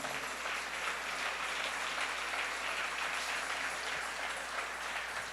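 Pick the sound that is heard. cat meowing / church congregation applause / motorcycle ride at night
church congregation applause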